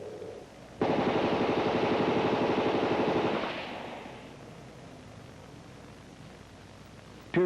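Sustained automatic rifle fire from C7 rifles during endurance firing trials, a loud dense burst of rapid shots for about three seconds, then fading into echoing reverberation and quiet before a sharp sound at the end.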